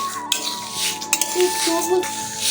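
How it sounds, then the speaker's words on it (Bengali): Moong dal dry-roasts in a pan over a low flame while a spoon stirs it, giving scraping swishes and a few sharp metallic clinks, close and with no voices. "লো ফ্লেমে মুগ ডালটাকে কিন্তু ভেজে নিতে হবে পাঁচ মিনিট মতো"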